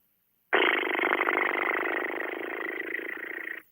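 A person imitates a cat's purr, producing one continuous rough rattling drone lasting about three seconds, close to the microphone.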